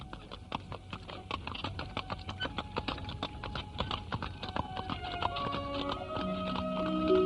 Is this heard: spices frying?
no